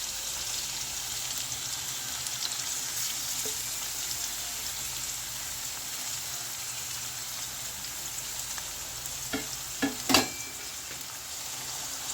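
Tuna pieces marinated in turmeric and salt fry steadily in a pan, a close, even sizzle throughout, with a few sharp clinks or stirring knocks near the end.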